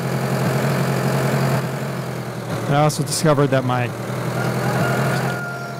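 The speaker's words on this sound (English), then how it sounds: "tractor engine is loud" Tractor engine in Farming Simulator 2013 idling with a steady low rumble, briefly revving higher before settling back, with someone talking over it.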